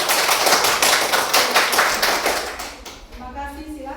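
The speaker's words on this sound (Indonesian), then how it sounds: "Kita kasih dulu tepuk meriah." A classroom of students gives a lively round of applause for classmates' presentation, dense rapid clapping filling the room before fading out, with a voice starting to speak at the end.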